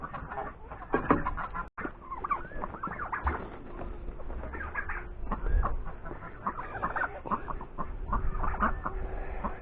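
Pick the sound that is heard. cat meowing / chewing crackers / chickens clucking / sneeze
chickens clucking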